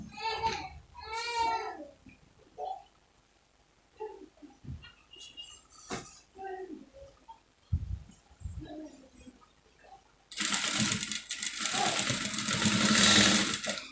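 A sewing machine stitches satin lining to lace fabric, starting after about ten seconds of talk and running as a steady, fairly loud mechanical whirr for the last few seconds.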